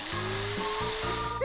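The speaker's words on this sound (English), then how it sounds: "Just screw in the partitions." A power screwdriver drives screws into cardboard partitions. A steady whirring motor steps up and down in pitch several times in a brief, close, continuous burst.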